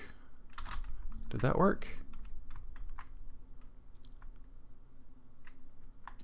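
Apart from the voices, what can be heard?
shift-clicking and typing on a computer keyboard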